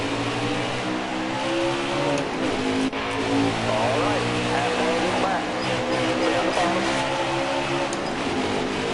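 Race cars in NASCAR Heat 4 roar and accelerate together at a green-flag restart, a dense, steady engine drone with rising revs and faint tire noise, while someone talks continuously over it.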